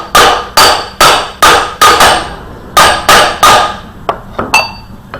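Metal driver hammered to seat a timing cover bearing on a 302 5.0 engine: a steady series of sharp, close, ringing strikes, about a dozen in all, the last few lighter and quicker.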